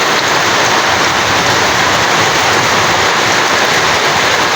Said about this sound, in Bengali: বাইরে কি পরিমাণ বৃষ্টি ধরছে।